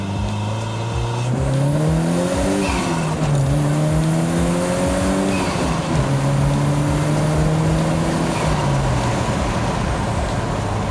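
A red 1983 Lotus Esprit Turbo pulls hard through the gears, its engine note climbing and dropping at each upshift in several clear steps, loud and close with no talk over it.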